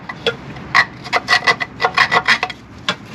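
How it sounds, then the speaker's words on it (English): A damaged bolt under a 1996 Honda Accord is cleaned up by hand, a close, rhythmic rasping scrape in a dozen or so quick strokes with short pauses between, and no speech. "I'm trying to clean up this bolt"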